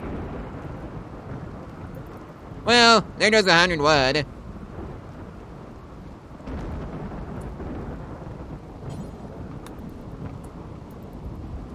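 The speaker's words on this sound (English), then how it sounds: "at least it gets put out by the Mercy Rain that accompanies the thunder" Rain and rolling thunder in a medieval mountain hotel video game: a steady wash of rain with low rumbles runs through, with a brief burst of talk early on and the storm continuing alone afterward.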